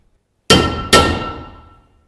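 Two sharp metallic clangs about half a second apart, a hammer hitting a VW Passat body panel on a frame straightening bench, each ringing out and fading slowly in quiet surroundings.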